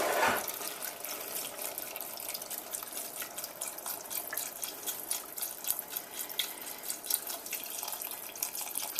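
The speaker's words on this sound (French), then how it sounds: "Et on ajoute le reste du bouillon." Broth is poured into a pot of butternut squash soup, a steady splashing liquid pour that runs alongside faint trickling and kitchen noise for the whole stretch, with no voices.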